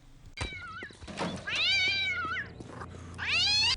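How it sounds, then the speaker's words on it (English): Cat meowing used as a gun silencer in the video game Postal 2; several loud, drawn-out meows come one after another, close and clear, with no talk. "Oh, you can use a cat as a silencer?"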